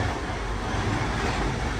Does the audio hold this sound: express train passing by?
yes